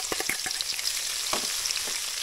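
Garlic sizzles steadily in hot oil at the start of cooking chicken pastil, a close, continuous crackling hiss with a few sharper pops and stirring scrapes throughout.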